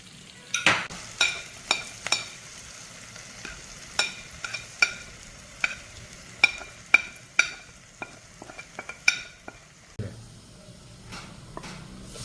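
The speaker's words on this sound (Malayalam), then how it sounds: "ഇതിലേക്ക് വലിയുള്ളി ചേർത്ത് നന്നായിട്ട് ഇളക്കുക" Onions sautéing in a pan with salt and spice powders for a pomfret curry, a soft sizzle punctuated by a dozen or so rhythmic clanking stir strokes of a spoon against the pan, close by and without speech.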